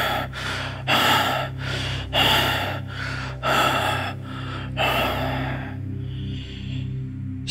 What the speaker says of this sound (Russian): Your breath continues to rasp in rapid gasps.